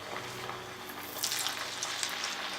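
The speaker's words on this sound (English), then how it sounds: "Now we are going to drop the small balls of the Manchurian slowly into the oil." Veg Manchurian balls drop into hot oil and fry with a steady, close sizzle. Bursts of crackling bubbling rise as more balls go in, with no talking.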